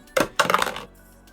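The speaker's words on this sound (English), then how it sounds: "Next we roll a d20 to determine creature type" A d20 die dropped and rolling on a hard surface: two quick clattering impacts followed by a short rattling tumble that settles within about a second, close and clear.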